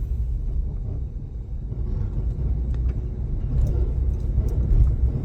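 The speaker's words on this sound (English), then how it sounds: "Bumpy road." A car drives along a bumpy road through town, with a steady low engine and road rumble, faint rattles and knocks, and a swell in loudness toward the end.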